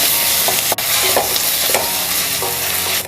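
Onions frying with a teaspoon of ginger-garlic paste in a pan for Chettinad prawn gravy, stirred with steady scraping strokes over a continuous close, loud sizzle.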